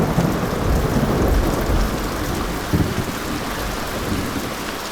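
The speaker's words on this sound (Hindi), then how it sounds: "बारिश पहले पहाड़ पर आती है, जानती हो?" Steady heavy rain pours throughout, with low rumbles of thunder rolling in and a louder crack near the end.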